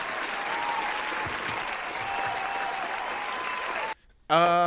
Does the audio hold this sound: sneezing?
no